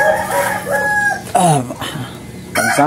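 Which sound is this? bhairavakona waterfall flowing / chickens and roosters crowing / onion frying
chickens and roosters crowing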